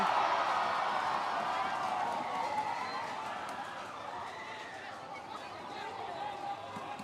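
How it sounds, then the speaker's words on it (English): An Indonesian crowd at a football match between Indonesia and Thailand roars as a broad, distant wash of cheering and hubbub that swells and then eases slightly, with a commentator's voice over it. "This Indonesian crowd does not need much to lift and show what they are all about. Any inkling, and that noise level"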